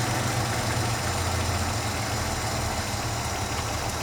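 A Ford Capri Mk I 3000 GT XLR engine idles with its mixture leaned off, running as a steady, close, continuous low rumble with a slightly uneven, labouring beat, with no talking.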